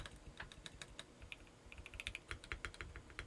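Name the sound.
typing on a stock CIY GAS67 mechanical keyboard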